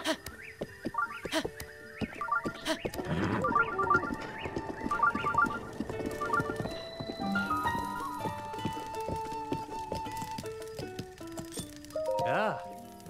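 Hooves of the horse Epona galloping in The Legend of Zelda: Breath of the Wild, a rhythmic clip-clop mixed with the game's melodic music and effects, running for several seconds before easing into other in-game sounds.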